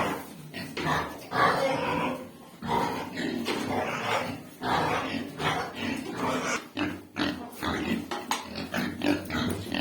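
Pigs grunt and snort up close in choppy bursts while a person talks over them.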